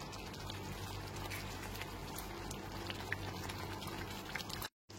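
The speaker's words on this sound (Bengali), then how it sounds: "জাফরান গোলা দুধটা দিয়ে একটু মিশিয়ে নিচ্ছি" Saffron-infused milk simmers and bubbles in a pot of cooked chicken, a steady close liquid boil with faint soft stirring and no speech, cutting out briefly near the end.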